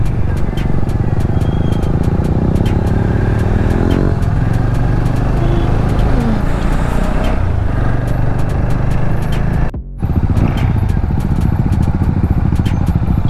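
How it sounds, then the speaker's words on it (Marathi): Road traffic with cars and motorcycles, a loud continuous close roar of engines passing with a brief gap near the end, no talking. "आईला इथं पण ट्रॅफिक."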